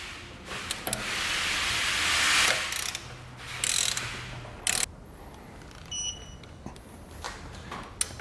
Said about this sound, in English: we can use a 1 1/8 inch socket to torque the nut to the manufacturer's specifications